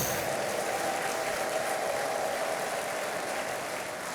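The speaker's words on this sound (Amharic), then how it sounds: "እልልታ ጭብጨባ ለጌታ" A church congregation claps steadily in a dense, continuous wash of applause that runs evenly throughout, with no separate talk over it.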